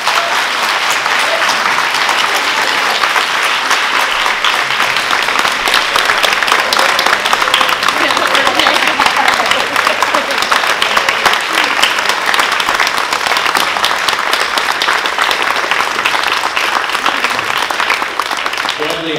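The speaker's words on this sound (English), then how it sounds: "How about a big round of applause for all these folks?" An audience claps loudly and continuously after a panel discussion on cultural appropriation, a dense, even wash of applause with some voices mixed in.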